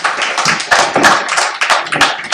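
An audience claps in close, busy applause for a pair of animated-film makers at a festival talk, a dense crackle of many hands that rises and dips without a break.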